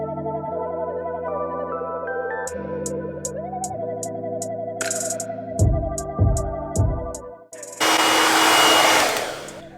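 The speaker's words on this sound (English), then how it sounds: "Let's get back to blow drying." A hair dryer runs during blow drying, its steady whine cut by repeated short clicks and several choppy bursts as airflow shifts, ending in a louder, rushing blast.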